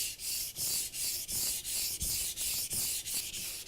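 Knife blade sharpened on a whetstone with a guide rail, steady back-and-forth grinding strokes in an even rhythm of about three per second, close, rough and continuous with no talking.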